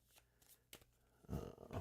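Board game cards from a Tainted Grail: Kings of Ruin item deck are shuffled on a table, a few soft riffles and taps building to a louder, fuller shuffle burst at the end.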